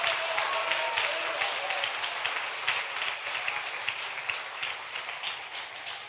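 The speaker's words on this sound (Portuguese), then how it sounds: "Se você quer aplaudir, aplauda ao Senhor." A church congregation applauds in a dense, even wash of clapping that holds at a steady level for the whole stretch and fades slightly toward the end.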